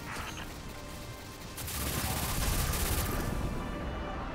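Sustained rapid gunfire from the video game Destiny 2, a dense continuous barrage of shots that grows louder partway through and holds steady to the end, with no talking.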